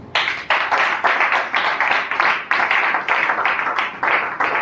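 Church congregation clapping in acclaim of Jesus, loud rhythmic unison claps in quick repeated bursts with brief gaps, close and sustained from start to finish.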